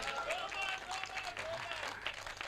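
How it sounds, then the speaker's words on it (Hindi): An audience at a Hindi comic poetry recitation in Nohar, Rajasthan claps in a soft, scattered patter, fairly quiet, mixed with voices and crowd murmur. "ताली बजा दो एक बार"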